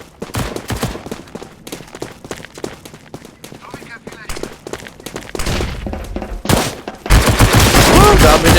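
Gunfire in the Roblox shooter Bloxstrike: bursts of shots scattered throughout, growing into louder sustained rapid fire near the end, with speech-like voices underneath.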